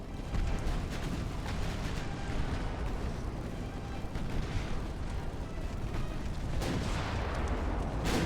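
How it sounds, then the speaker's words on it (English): Naval main guns fire in the naval battle game Ultimate Admiral: Dreadnoughts, with 1890-era ships firing at light cruisers: a steady roar of rumbling salvos and overlapping booms throughout, dense and continuous rather than separated shots. "we're gonna have you guys start actually focusing your main gunfire on those light cruisers"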